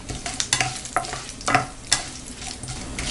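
Mustard seeds, chana dal, curry leaves and dried red chilies frying in hot oil for a Tamil festival dish, crackling and sizzling with scattered pops and bursts of stirring, close and fairly quiet with no talk.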